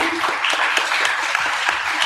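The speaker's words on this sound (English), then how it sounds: "So if you could give them a round of applause." An audience at a social media workshop claps in steady, moderately loud applause, many hands overlapping with a few sharper individual claps.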